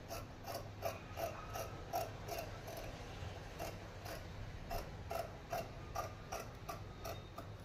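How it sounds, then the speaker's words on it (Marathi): Scissors cut blouse fabric along the neckline, a quiet series of regular clipping snips repeating about twice a second, faint and close with no voice over them. "आता मुंड्यातून सुद्धा आपण कटिंग करून घ्यायची"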